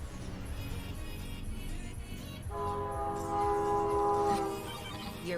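A train passes in the background behind a busy game soundscape, its horn sounding as sustained steady tones midway through, fairly loud, before fading back under the mix.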